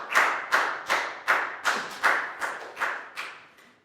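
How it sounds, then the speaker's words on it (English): A class claps together in a steady, rhythmic round of applause of about nine even claps that grow softer toward the end. "a big round of applause for Bang Bong, please, guys."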